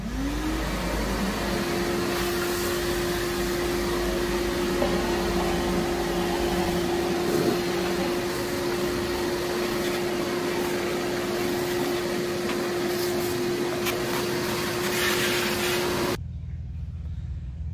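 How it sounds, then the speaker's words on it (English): Shop vac sucking up wood dust and offcuts across a workshop floor: a loud, continuous motor whine with a steady pitched tone and rattling debris, running steadily before cutting off abruptly near the end. "I did about 5 minutes of vacuuming across the shop."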